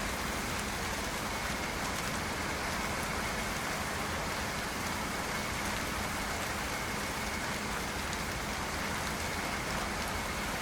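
Steady, heavy rain in American Truck Simulator pours down without a break, a dense even hiss filling the whole clip with no voices.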